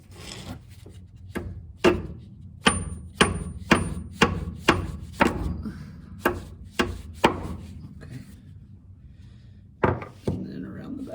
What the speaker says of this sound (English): This is a far too large hammer for this.